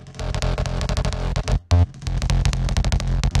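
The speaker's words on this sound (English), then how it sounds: "it's kind of just like the clicky, punchy part of the sound" A clicky, punchy synth bass pattern pulses in rapid tight notes, loud and dry, with a brief gap and a deeper thump midway through.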